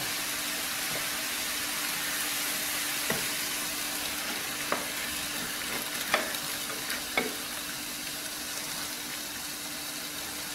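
Lima bean pepper masala sizzles steadily in a pressure cooker after a splash of water goes in, with a constant hiss broken by several sharp scrapes and clinks of a stirring spoon, no talking.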